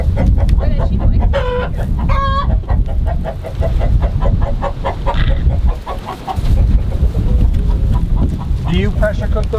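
Pastured chickens cluck and squawk close by in repeated bursts, with a rooster-like call among them and a voice talking underneath.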